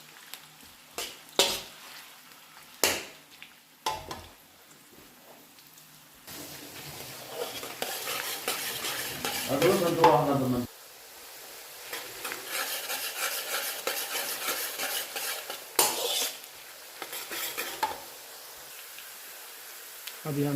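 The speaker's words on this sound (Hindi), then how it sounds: "प्याज को हम ब्राउन करेंगे।" Onions browning in a pan for a black pepper chicken korma, with a steady sizzle broken by scraping stir strokes and clinks of a utensil against the pan, fairly close and moderately loud.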